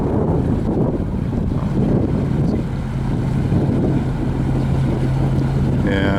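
Strong wind buffets a 43-foot Bayliner aft-cabin motor yacht, a loud, continuous roaring rush over a low engine drone, with a steady hum persisting to the end.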